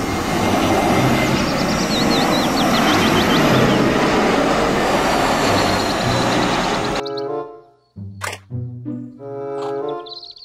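A steady, loud roar of a passing airplane fills most of the clip, then cuts off abruptly into brief musical tones.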